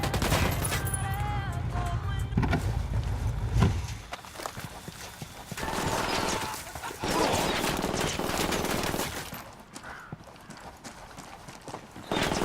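Gunfire in the shooter game Ghost Recon Wildlands: loud, dense bursts of rapid shots mixed with clattering game effects and occasional quieter gaps, with a voice briefly heard among them.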